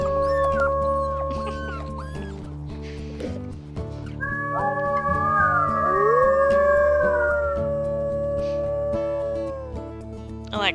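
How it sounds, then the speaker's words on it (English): Wolves and their pups in WolfQuest 3 howl together in a long overlapping chorus, rising and falling sustained wails with higher thin pup voices layered over a steady low game backdrop. "how everybody's howling"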